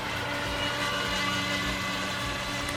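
A Helifar H106 RC racing boat's electric motor whirs steadily at close range, its pitch nudged gently up and down as the throttle is worked back and forth, with no voices over it.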